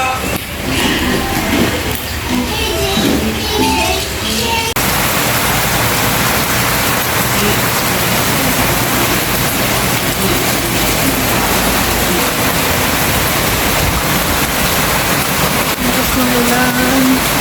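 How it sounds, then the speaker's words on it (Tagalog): Heavy rain pours down in a dense, continuous hiss, loud and unbroken, with a faint murmur of voices at the start. "Kasi ang lakas ng ulan."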